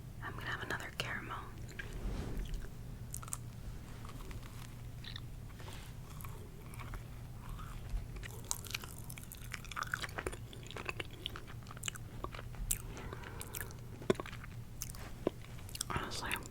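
Caramel candy being chewed close to the mic in soft sticky bites and crunches, with quiet whispering woven through the chewing.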